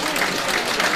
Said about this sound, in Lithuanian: Aplodismentai štai taip aikštę paliekančiam Anatolijui Ostapui